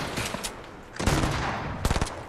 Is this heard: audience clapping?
no